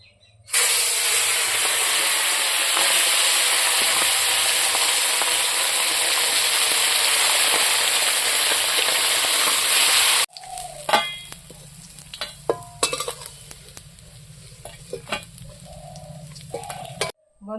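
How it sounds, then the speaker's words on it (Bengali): Fish frying in hot oil in a kadai: a loud, steady sizzle runs unbroken for about ten seconds, then drops to quieter crackling with scattered pops and scraping, with no talk. "তেল গরম হয়ে গেছে এখন মাছগুলো ভাজি নেব"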